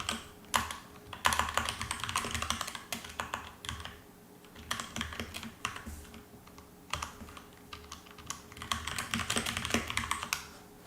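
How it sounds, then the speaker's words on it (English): Steady clacking of a computer keyboard as someone types a quick message, close and clear, in irregular bursts with short pauses and no talk. "Let me write here a quick message."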